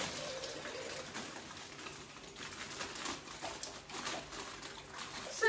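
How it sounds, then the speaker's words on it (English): Tap water gushing into a bag for a garden flower bouquet, a steady close rushing hiss with light splashy fluctuations throughout, no talk. "I fill up the bag of water."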